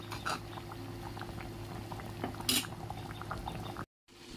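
Curry with kolong tenga simmering in a pot, a steady close bubbling and gurgling with a faint clink of a utensil partway, then a brief cut to silence near the end.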